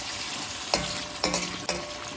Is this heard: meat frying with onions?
yes